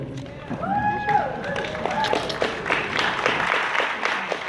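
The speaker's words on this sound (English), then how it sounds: "I'll let the applause build." Audience applause building at a Midsummer Scream panel about a Halloween Horror Nights maze, a dense wash of clapping and crowd noise rising after a brief stretch of voices and staying loud to the end.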